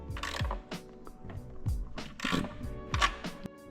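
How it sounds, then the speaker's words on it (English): A socket wrench snugging nuts on a tray during a Mustang intake manifold install: quick ratcheting clicks and metallic taps in short bursts, close by and moderately loud, with no talk. "go back through with the socket and get them pretty well snug"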